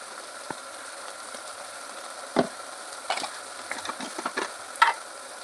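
Tomato dal being stirred in a pan after turmeric, chilli powder and salt go in, giving a soft steady scraping with several sharper spoon knocks and clicks near the middle and end.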